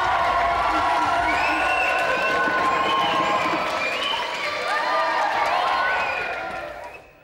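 A game-show studio audience keeps up steady applause with cheers and whistles, the crowd noise filling the space throughout before it fades at the very end.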